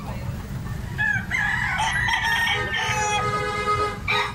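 A big 11-month-old rooster crows once nearby, a loud drawn-out call, over a background of other fowl and light outdoor noise.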